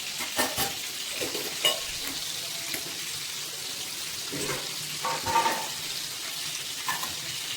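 Fish pieces fry in plenty of hot oil in a pan for fish biryani, giving a steady close sizzle with intermittent stirring and scraping noises, no voices.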